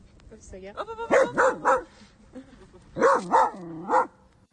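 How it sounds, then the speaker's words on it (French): A dog faces a hedgehog and barks in two tight bursts of three sharp, loud barks, separated by a short pause, close and clear. "pour tous ceux qui n'auraient jamais vu un chien face à un hérisson, extrait."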